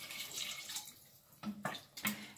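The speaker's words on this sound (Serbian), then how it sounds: "Dodajemo vodu." About half a litre of water poured into a pot of chicken soup with frozen vegetables, giving a steady close splashing rush that tapers off into a few separate splashes and drips.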